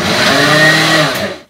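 A blender pulses a mix of onion, scallion and seasonings for Jamaican Solomon Gundy, a single loud, close whirring burst that stops abruptly.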